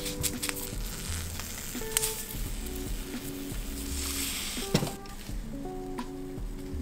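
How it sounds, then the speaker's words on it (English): Tomatoes and serrano peppers roasting in a hot pan give off a steady crackling sizzle, with occasional utensil clinks and scrapes, close and continuous with no talk. "you're seeing me roast the tomatoes here with the serrano peppers"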